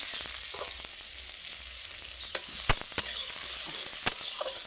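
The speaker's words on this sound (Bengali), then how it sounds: "পেঁয়াজটাকে ভেজে নিই" Chopped onions fry in a pan with a steady, soft sizzle. Occasional sharp clicks of a spatula stirring cut through, with no talking.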